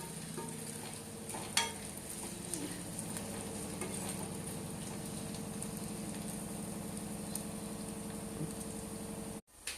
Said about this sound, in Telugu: బాగా సిమ్లోనే వేపుకోండి.